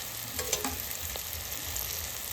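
Onion, ginger, garlic and green chilli frying in a pan, a steady close sizzle with a few brief stirring scrapes and no voices.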